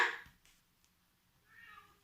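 A cat meows indoors: one loud, close meow at the start, then a softer, drawn-out second meow after a short pause, with no talking.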